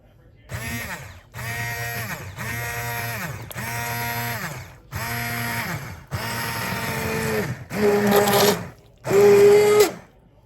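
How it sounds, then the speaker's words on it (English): A blender purees tomatoes into a sauce in about eight loud, whirring pulses separated by short pauses. The last bursts are louder and strain harder. "now we're going to emulsify it so that the tomatoes become really a sauce"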